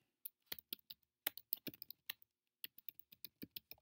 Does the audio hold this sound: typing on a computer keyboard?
yes